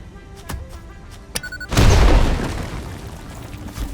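A Nobelisk explosive detonates in the video game Satisfactory. One loud, close boom bursts out suddenly and dies away in a long rumbling tail, after a few faint clicks and taps.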